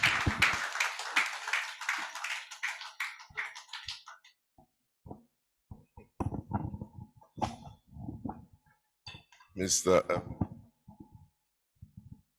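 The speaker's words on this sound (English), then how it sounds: "Please, a round of applause for my Lord, Honorable Justice Abiru, for his chairman's speech" Applause for a judge at a legal arbitration event, dense clapping for about four seconds that quickly dies away, followed by scattered handling noises and a nearby voice beginning to speak.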